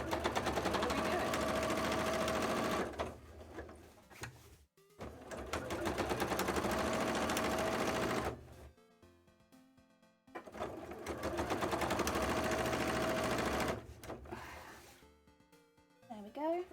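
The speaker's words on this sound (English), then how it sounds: "That's my machine saying, dang, that's thick. Why are you sewing through things so thick today, huh?" Sewing machine labouring through thick fabric for a cosplay tail, three loud sustained runs of rapid stitching separated by short pauses, close up and alone.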